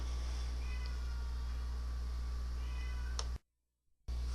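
A pet cat meows twice, with a short cry then a brief higher call, over a loud steady low hum and background game audio. A sharp click follows and a moment of silence.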